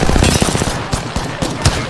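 Loud, close automatic gunfire from an Apex Legends match, rapid continuous bursts with sharper individual shots punching through the dense firing.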